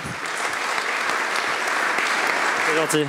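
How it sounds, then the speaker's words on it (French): Audience at an NFT meet-up applauds the interview guests, a steady, fairly loud burst of clapping from a room full of people, with a voice briefly cutting in near the end. "Je pense qu'on peut les applaudir"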